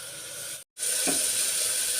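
Sliced onions sizzle and fry in a hot pan with a steady hiss of oil, broken by a brief silent gap before the frying resumes, close and even throughout.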